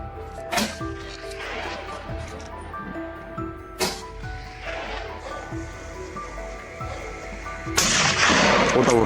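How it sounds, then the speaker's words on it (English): Gunshots fired at a wild boar on a mountain hunt, three sharp, loud reports spaced a few seconds apart over outdoor rustling and background noise. "We had to respond with multiple shots before finally gaining the upper hand."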